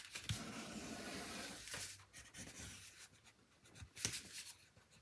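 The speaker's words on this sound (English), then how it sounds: "I'm just kind of flattening things out as much as I can so that I'm not burnishing over a bunch of bulk" Paper is flattened and burnished by hand, making soft, close scraping and rubbing strokes in irregular bursts, with a few sharper swipes among quieter stretches and no talking.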